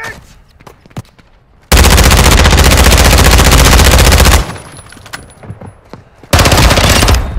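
Call of Duty Modern Warfare 2 gunfire: two loud, sustained bursts of rapid automatic fire, separated by quieter stretches with scattered distant shots and thuds.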